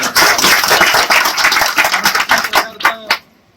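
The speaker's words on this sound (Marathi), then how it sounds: "आपण सगळ्यांनी जोरदार टाळ्या वाजून" A crowd at a political gathering claps hard and fast for a few seconds, the applause thinning into scattered last claps before stopping abruptly.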